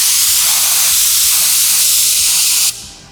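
An HVLP spray gun set to 20 PSI sprays a test pattern onto a board, giving a loud, steady, close hiss of air and atomized finish that cuts off abruptly near the end.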